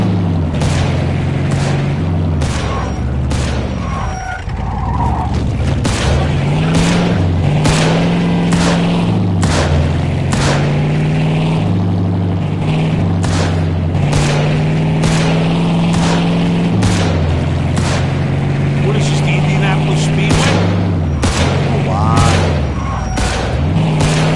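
Gunfire in the Mafia 2 game rings out in repeated sharp, loud shots with irregular spacing, some in quick bursts. A low engine-like drone runs underneath throughout.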